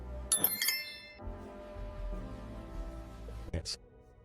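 A quick, bright bell ding sound effect chimes near the start, followed by voices talking with a soft music bed, and a second short chime near the end.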